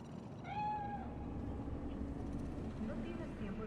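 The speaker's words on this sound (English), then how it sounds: "Do you see it? That cat?" Cat meowing in the video game Cyberpunk 2077, a single drawn-out meow near the start over a steady low hum of game ambience, with a couple of fainter mews later.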